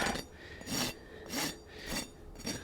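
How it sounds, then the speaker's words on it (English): A horse's hoof toe being trimmed with a rasp, giving four or five steady rhythmic scraping strokes, close and fairly soft, with short pauses between them. "I'll trim a little bit of toe from the top, or excuse me, from the bottom"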